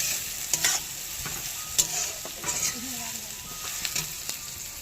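Food fries in a pan with a soft continuous sizzle, punctuated by several sharp clinks and scrapes of stirring spread irregularly through the moment, with faint background voices.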